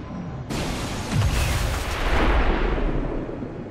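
A deep, rumbling explosion from the video game XCOM 2 bursts in loudly, followed by further booming blasts and a heavy roar that lingers and swells.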